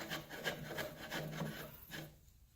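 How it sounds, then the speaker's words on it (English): Wooden wagon vise screw threaded into the end apron of a workbench, giving a soft, close rasping wood-on-wood rub in repeated short strokes, faint and with no talk. "install the Wagon Vise screw by threading it into the end apron of the bench"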